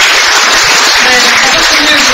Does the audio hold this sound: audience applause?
yes